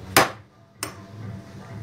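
Two sharp metallic hammer blows strike a part held in a bench vise while fixing a Wahl clipper lever, spaced well apart, close and loud, with a short ringing decay after each.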